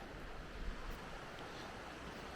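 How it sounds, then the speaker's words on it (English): A small waterfall beside the water at a secluded Alabama state park campsite, a steady, dense rushing wash of falling water close by, continuous and broadband with no talk. "little waterfall right there. We are right next to the water, as you can tell."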